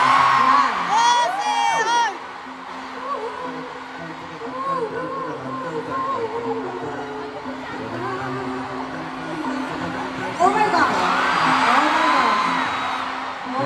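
Concert crowd at a fan concert in Manila, a sustained roar of screaming and cheering fans with shrill whoops rising and falling, loud throughout and swelling near the end, with voices shouting over it.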